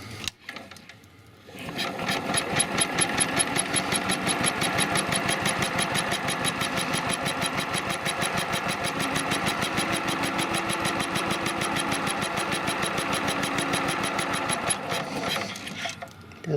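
A small gasoline engine on an observatory upgrade project sputters briefly, then catches after choking and runs steadily with a fast, even buzzing chug for about fifteen seconds before cutting off.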